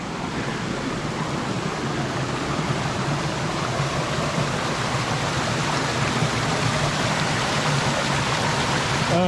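Jungle stream near a waterfall in Thailand, a loud, continuous broadband rush of running water, close and unbroken.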